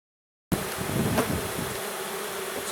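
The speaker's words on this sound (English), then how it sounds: "since there's going to be so many bees in the air and on the ground" Honey bees swarm in dense numbers around an opened hive, a loud, continuous buzzing drone that starts abruptly and holds steady for a few seconds, with no voices.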